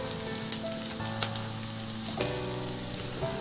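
Garlic sautéing with onions in a hot pan, a soft steady sizzle broken by a few sharp clicks and scrapes from a utensil stirring it.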